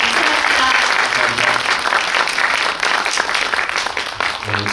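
Dense, sustained audience applause fills a film festival Q&A after a short-film screening at the Jeonju International Film Festival. The crowd claps steadily and loudly from start to finish, tapering only slightly near the end.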